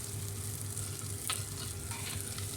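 Bitter gourd (karela) and onion sabzi sizzles in a pan while it is mixed, a constant close crackle with one sharp scrape of the spoon midway and no voices.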